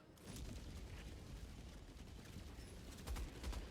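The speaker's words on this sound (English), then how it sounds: "let's use the Gatling barrage to... Barrage, clear the area" Sustained Gatling barrage fire in Helldivers 2, a dense, continuous rattle of rapid shots and booms at moderate distance, swelling louder near the end.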